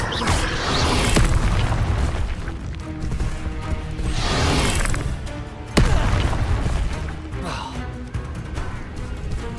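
An Incendio fire spell cast in Witch Simulator 2023 bursts out in loud booming whooshes, repeated several times with sharp impacts, mixed with game sounds and no clear voice.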